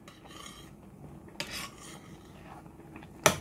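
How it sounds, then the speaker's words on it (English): Spoon stirring Annie's mac and cheese in a pot, soft scraping and rubbing strokes with a sharper clink of metal near the end, quiet and close. "Just to stir."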